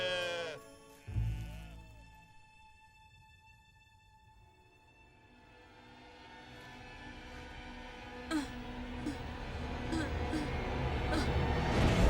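Sheep bleating: a loud, wavering bleat near the start, then more scattered bleats later as the background noise slowly rises.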